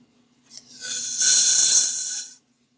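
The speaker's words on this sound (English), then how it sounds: "just a quick sound for you can hear that there is gas" A steady hiss of gas escaping from the valve of a decades-old torch cylinder, rising and then holding for about two seconds before cutting off, with no talking.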